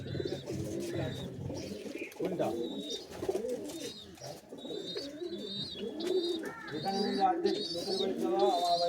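Pigeons coo continuously nearby, with a dense layer of calls under people talking throughout.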